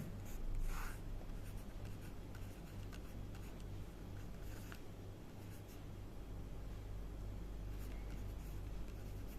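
Pen or pencil scratching numbers onto paper for a maths addition sum, faint intermittent scribbling strokes over a steady low hum, with no talking.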